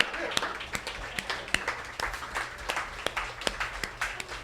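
At a literacy organization gathering, a small audience applauds, with sharp, fairly regular individual claps standing out over a softer background patter, moderately near and sustained throughout.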